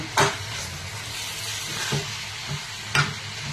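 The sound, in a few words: gently stirring carrots in pan for gajar halwa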